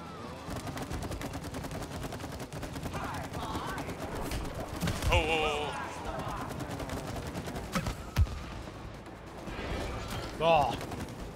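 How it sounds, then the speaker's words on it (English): Explosions pop and crackle in the video game It Takes Two, with rapid bursts and sharp bangs mixed with game effects while players talk over them. "Those explosion sounds are great. That like pop."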